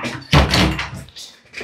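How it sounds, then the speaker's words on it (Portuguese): An indoor door swings shut with one solid thud, followed by a faint rattle as it settles. "Fechar a porta por conta do barulho."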